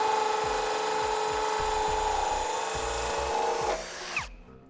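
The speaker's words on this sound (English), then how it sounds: "we'll take an 1 1/4 hole saw and drill through the front of the bumper" A 1 1/4 inch hole saw on a power drill cuts steadily through the front bumper of a 2012 Cadillac SRX, a close, continuous whining grind with rhythmic chatter that winds down and stops near the end.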